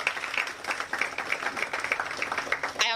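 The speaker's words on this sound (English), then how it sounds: "They deserve a round of applause." At a press launch for a medical TV series in Accra, an audience gives dense, continuous applause with rapid overlapping claps at moderate volume for about three seconds.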